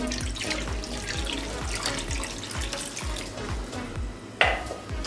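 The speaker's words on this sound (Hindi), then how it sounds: "2 छोटे गिलास हमने पानी के ले लिए।" Water from two small glasses poured into a frying pan holding dried plums, a steady close splashing and trickling stream with a brief louder splash near the end, no talking.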